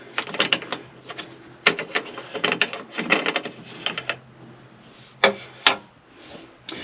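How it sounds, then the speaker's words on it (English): The oil cap being unscrewed on a PCM ZZ6 marine engine gives close, irregular bursts of clicking and ratcheting, with short pauses and a few sharper snaps near the end. No one speaks. "what I'll do is I'll undo this cap, and I'll just go ahead and do that right now"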